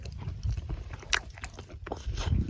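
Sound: eating local ramen while camping by a fire

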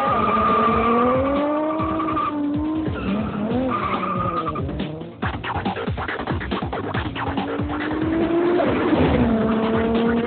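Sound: Ferrari car skidding and revving

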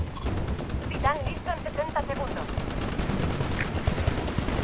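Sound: gunfire in video game Titanfall

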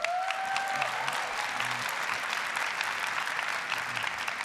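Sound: audience applause at keynote

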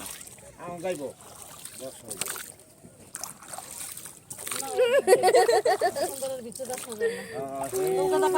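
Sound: boat moving on water

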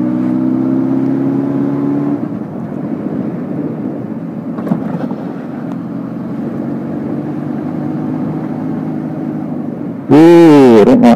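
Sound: motorbike engine while riding

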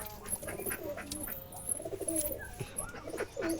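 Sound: Jalali pigeon cooing

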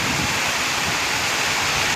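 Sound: heavy rain falling

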